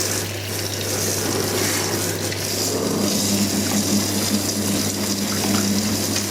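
Tap water runs steadily into a filling tank, a loud continuous splashing rush with a low constant hum beneath, no talking.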